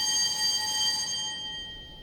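An electric bell, set ringing on stage by joining two wires, holds a bright, bell-like ringing tone that fades away over about two seconds.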